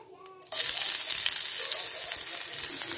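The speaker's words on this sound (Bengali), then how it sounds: "এবার তেলে দেব পেঁয়াজ" Chopped onion drops into hot oil already spiced with cardamom and cloves. A quiet start gives way to a sudden loud, steady sizzle that fills the rest of the clip.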